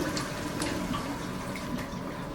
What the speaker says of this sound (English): I do notice it takes a long time to fill up